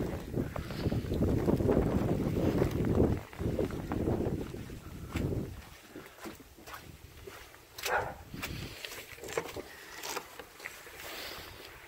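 Wind blowing hard during a snow storm in Havre, a steady rushing roar with gusts that buffet the microphone, then easing into quieter gusts with scattered knocks and rustles.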